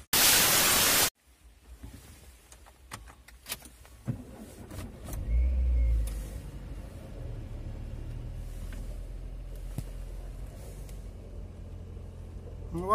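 A Renault engine idles with high, unsettled revs, a steady droning rumble following clicks and a loud burst of static at the start, the engine hum continuing unevenly and fairly close.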